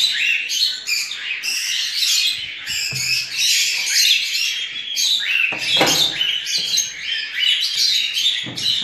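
Several lovebird, cockatiel and parakeet chicks chirp and peep continuously at hand-feeding time with warm formula, a busy, close chorus of high, overlapping calls with no talk.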